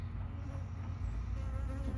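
A honeybee buzzes steadily and close around a beekeeper working hives outdoors on a sunny day, a continuous drone over low background rumble.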